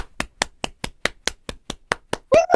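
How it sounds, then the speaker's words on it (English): A few people clap together in a slow, steady rhythm, about a dozen evenly spaced claps close by, followed by a brief whooping voice at the end. "All right, let's clap it."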